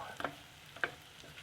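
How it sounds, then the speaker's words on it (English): Steak sizzles in a pan on a wood-burning tent stove during snowy hot-tent camping: a quiet, steady fry with a couple of brief, sharper crackling bursts, close by and without talk. "Getting some sizzle now."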